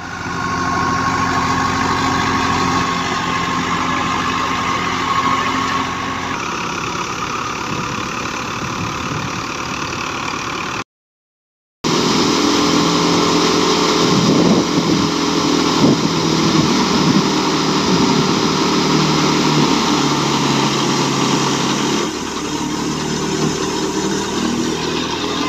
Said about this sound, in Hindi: ये 85 हार्स पावर ट्रैक्टर है जी दोस्तों